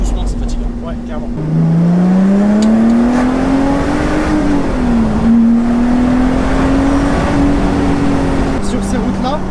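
A Lotus Exige V6 S 3.5 sports car driving along a bumpy country road, its engine droning steadily from inside the cabin with slow rises and falls in pitch as it accelerates, loud and continuous throughout.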